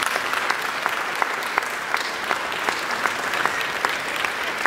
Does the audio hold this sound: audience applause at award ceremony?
yes